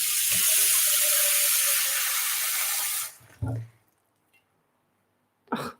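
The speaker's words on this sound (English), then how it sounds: "I'm going to put the water on" Kitchen tap water runs loudly and steadily for about three seconds while summer rolls are being prepared, then cuts off, followed by a couple of brief clunks and a short voice.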